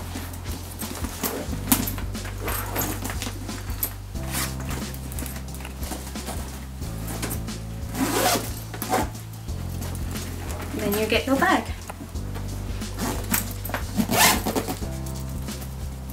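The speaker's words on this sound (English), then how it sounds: "just put the zips up." Zips being drawn along the sides of a Stackers weekend travel bag, several quick rasping zipper pulls in a row, close and clear, with a person talking over and between them.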